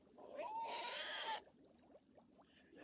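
A cat from the 1964 fairy-tale film Morozko gives a single drawn-out, fairly loud meow lasting over a second, its pitch bending and fading at the end, followed by quieter background rustle.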